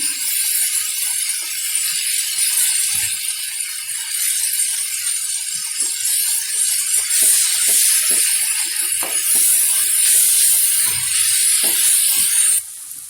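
Onions softening in a hot pan for an Afghani omelette with potato and tomato give off a steady, loud, close sizzle, a dense hiss with faint crackles running unbroken throughout, no voices.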